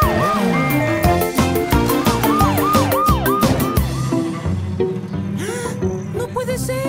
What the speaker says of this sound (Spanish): Ash, Scout, activen sus sirenas.